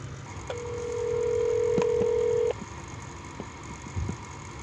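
A steady electronic phone tone sounds for about two seconds, followed by a few soft clicks in a quiet room.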